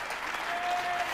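A large Wembley crowd at a snooker match breaks into sustained, dense applause that fills the hall evenly, with a commentator's voice faintly underneath.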